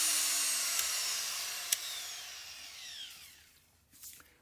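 A Foredom power carving tool spins at full speed, a loud high whine that slowly drops in pitch as it winds down, with a couple of sharp clicks along the way.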